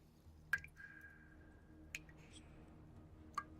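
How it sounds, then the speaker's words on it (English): Water drips echo in a dark, silent cave, three sharp, clear plinks spaced about a second and a half apart, each ringing briefly over a faint low hum. "It's like a droplet hitting a water surface. It's sharp, it's clear."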